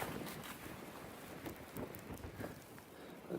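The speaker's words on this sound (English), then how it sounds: "You could probably hear the wind." Wind blowing across a mountain during a blizzard on the Pemi Loop, a faint steady rushing gust with rumbling microphone buffeting and no voices.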